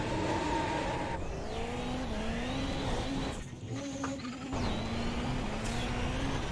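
Dallara race car engine in a Le Mans racing video game, a steady loud drone that rises in pitch through several gear changes, with a short dip midway and a faint tire squeal, and no voices.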